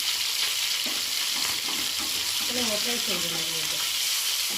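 Katla fish frying in a pan on a low gas flame, a steady sizzle heard close under a woman's brief speech.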